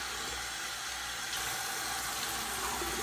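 Warm water runs steadily from a tap onto a makeup remover pad, a constant broad hiss and splash with no pauses or talk.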